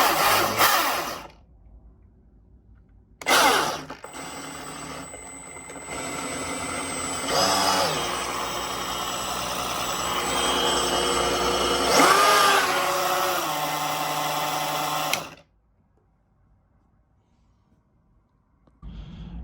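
A chainsaw motor buzzes near and loud, first in short trigger bursts, then held at full throttle for about eleven seconds in a steady high whine with slight pitch swells, before cutting off into silence.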